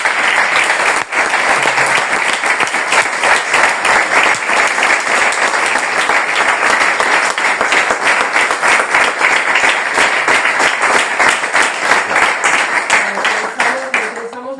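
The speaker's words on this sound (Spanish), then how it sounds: "Un aplauso para el talento." Audience applause at the close of a live Spanish talk show recording about an impossible library, a dense, steady wash of many hands clapping for about fourteen seconds before tapering off at the end.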